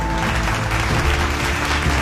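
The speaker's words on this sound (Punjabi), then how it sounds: "ਇੱਕ ਵਾਰੀ ਜ਼ੋਰਦਾਰ ਤਾੜੀਆਂ ਸਾਡੀਆਂ ਭੈਣਾਂ ਦੇ ਨਾਂ ਤੇ" A crowd at a public gathering in Punjab about drug addiction breaks into a loud, sustained burst of applause for the women, dense and steady throughout.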